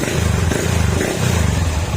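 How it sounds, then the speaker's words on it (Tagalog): A TMX155 motorcycle engine with a misfiring, popping exhaust idles and putters steadily up close, a low rough rumble with a faint mechanical clatter and no voices. "painitin muna natin yung makina"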